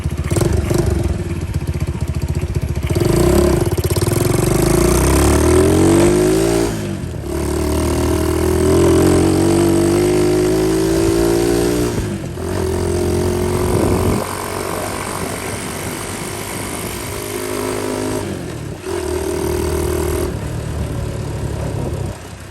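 A Honda S65 motorcycle engine brought back to life after more than eight years unused runs close and loud, idling and revving in rising and falling swells, with brief dips where the throttle drops off.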